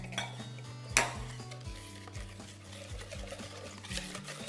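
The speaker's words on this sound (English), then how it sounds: "Whisk together." Whisking chocolate cupcake batter in a bowl, the wet and dry ingredients just combined: a busy run of scraping, clinking strokes against the bowl over a steady low backdrop, with one sharper knock near the start.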